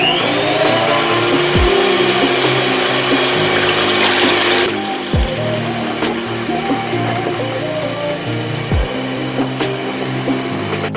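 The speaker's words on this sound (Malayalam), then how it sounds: "ബീറ്റർ ഉപയോഗിച്ച് നന്നായിട്ട് ബീറ്റ് ചെയ്യണം, എങ്കിലാണ് നമുക്ക് നല്ല കട്ടപ്പത കിട്ടുള്ളൂ" An electric beater whisks salted eggs for a fluffy omelette, a loud, steady motor whine running throughout, its pitch shifting partway through as the beaters churn the mixture.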